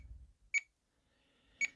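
Two short, bright electronic beeps from the LiPo battery alarm on a FrSky X20S radio transmitter, about a second apart and fairly quiet, with faint low rumble before the first.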